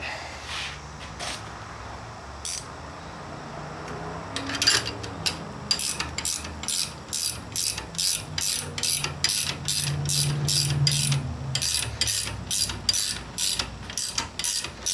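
A makeshift transmission spring compressor tool for a 42RH/A500 rebuild has a nut threaded onto it, giving a steady run of sharp metallic ratchet-like clicks close by, starting after a few quiet seconds and continuing rhythmically to the end.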